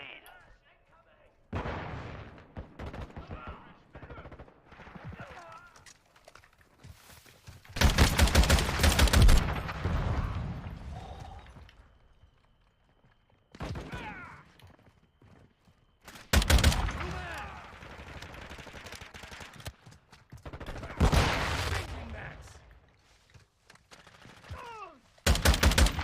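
Loud bursts of gunfire from a gun in Modern Warfare II, several separate heavy volleys with quiet gaps between them, while someone talks over the quieter stretches.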